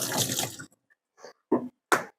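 Tap water runs in short bursts over a raw egg being washed in a kitchen sink, a close splashing gush followed by brief drips and splashes, with no talking.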